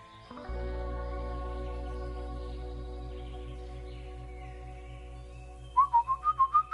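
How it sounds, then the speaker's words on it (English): In the video game Truberbrook, a steady low drone hums before a person whistles twice, two quick pairs of rising, chirpy notes near the end. "Whistle 2 times"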